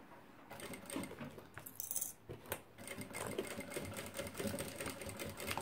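A sewing machine runs steadily, stitching plastic on a Metrópole organizer with a continuous rapid mechanical chatter and a brief pause near the middle, close and fairly quiet.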